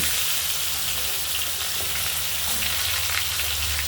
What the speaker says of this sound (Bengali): তেল গরম করে নিলাম তেজপাতা লঙ্কা জিরে ফোড়ন দিলাম এবার ধীরে ধীরে তরকারিগুলো দিলাম